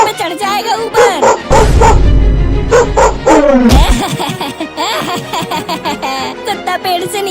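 A cartoon dog barks in quick yapping bursts while scrambling up a tree, set against busy cartoon music and sound effects, with a loud low thump partway through.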